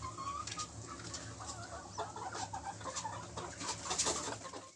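Several young roosters cluck and chirp in a steady, busy chatter over a low background hum, with a few brief louder calls toward the end.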